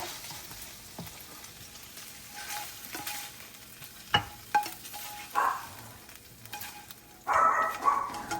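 A spoon scrapes and stirs a cooked meat mixture in a pan over a low sizzle, with a few sharp clinks against the pan partway through and a louder burst of scraping near the end.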